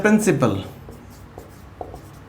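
Writing on a board during a Class XII letter-writing lecture, with faint scratchy strokes that follow a man's short spoken phrase.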